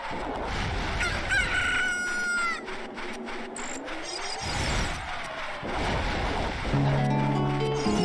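A rooster crows in Zelda Ocarina of Time, its call rising clearly over chirping birds and ambient game background with a soft, surf-like wash underneath.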